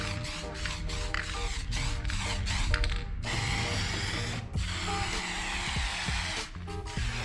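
A spray gun lays a light black haze coat over a Nissan R31 Skyline TI body, a steady close broadband hiss running for several seconds after some brief rattling clicks of handling at the start.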